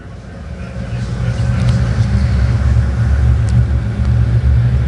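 A pack of USMTS modified race cars roaring off at the green flag of an evening heat race, a dense engine rumble swelling louder and holding steady, with faint speech.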